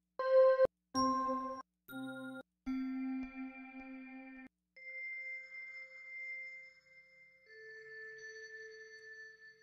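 Bell and vibraphone sound samples play one after another, each a clear ringing tone with a crisp strike, some short and clipped, later ones sustained and gently decaying, heard alone without any talking.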